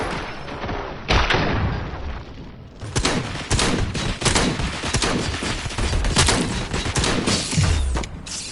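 Rapid bursts of gunfire in the RoboCop: Rogue City video game, loud and close, with sharp shots and thumps crowding together in a sustained volley after a brief quieter opening.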